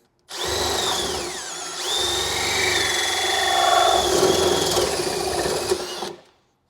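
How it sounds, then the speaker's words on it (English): A power drill whines loudly as it bores a 16 mm hole in a 1998-2013 Harley Street Glide, its pitch dipping under load and rising again, running steadily for several seconds before stopping. "About right here, we're going to drill a hole."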